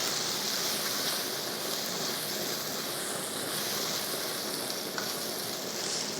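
Thin-cut ribeye steak sizzles in a hot wok during a beef stir-fry, a continuous bright frying hiss with no pauses and no voices.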